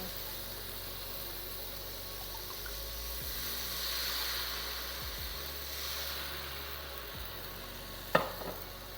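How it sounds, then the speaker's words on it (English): Wine poured into a ceramic pan to deglaze chicken cacciatore, a soft steady sizzle with low scraping and stirring noises, a faint low hum underneath and a sharp clatter near the end. "I'm going to deglaze with some of the wine."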